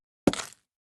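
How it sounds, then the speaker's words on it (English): A single short scraping crack from stripping a log in Minecraft, one close, bright burst lasting about a quarter second before cutting to silence. "We've also got new sounds for stripping wood and creating dirt paths,"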